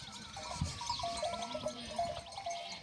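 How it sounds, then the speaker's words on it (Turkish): Sheep and goats resting after grazing at a highland pasture bleat in overlapping wavering calls, moderately close, over a steady outdoor background hum with no talking. "Koyunlar ve keçiler şimdi artık akşam saat 5'e kadar dinlenecekler."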